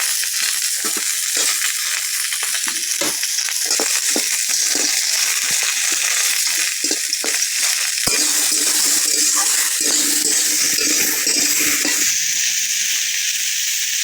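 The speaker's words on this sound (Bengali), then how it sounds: "এবার দিয়ে দেবো টমেটো কুচি।" Chopped tomato going into hot oil with frying onions and green chilli, a loud steady sizzle running throughout, with scattered clicks and stirring scrapes close up.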